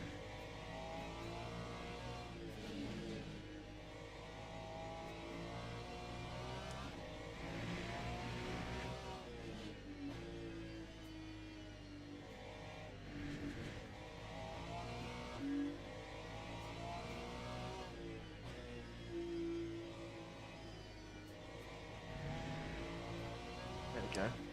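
GT3 race car engine in the sim racing game Le Mans Ultimate, heard faintly as a steady mid-pitched drone that repeatedly revs up and drops under braking and gear changes while a voice talks over it.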